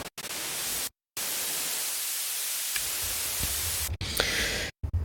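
Harsh hissing white noise from the noise oscillator of the Dune 2 synthesizer by Synapse Audio plays in bursts separated by brief silences, its tone shifting between brighter and duller through low pass and high pass filters.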